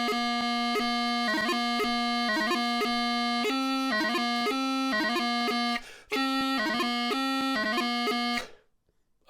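Bagpipe practice exercise for a pipe band, played alone and loud with a steady drone beneath rapid grace-note embellishments and repeating melodic figures, a brief break near the end before the final notes and silence.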